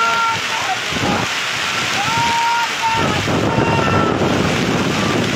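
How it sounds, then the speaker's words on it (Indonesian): Stormy night rain and gusting wind batter earthquake refugee tents in Pasaman, a continuous loud wash of wind and rain while a person speaks over it. "Badai, badai, hujan, badai lebat sekali."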